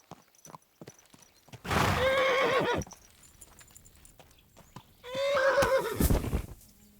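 A video game horse in Kingdom Come: Deliverance II whinnies loudly twice, a few seconds apart, with soft hoof thuds and light clatter in between; no talking.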